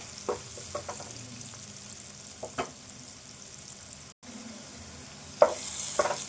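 Onions, turmeric and spices frying in a pan for a brinjal chicken curry, a soft steady sizzle with a few faint scrapes and clicks, quiet and close, with no voices.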